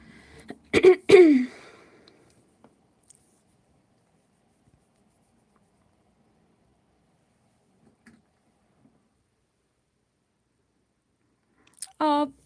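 One short, sharp sneeze close by, followed by a long near-silence, then a brief voice at the very end.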